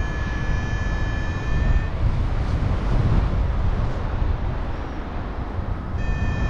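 Strong wind buffeting a microphone on a mountain flight near Yalta and Demerdzhi, a loud continuous roaring rush with steady engine-like drone and high whining tones coming and going.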